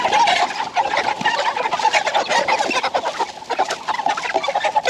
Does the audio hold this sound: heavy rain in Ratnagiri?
no